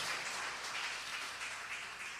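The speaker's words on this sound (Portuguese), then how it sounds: "Dê um lindo aplauso aí ao Senhor." A church congregation applauding at a Sunday service, steady broadband clapping held at an even level throughout.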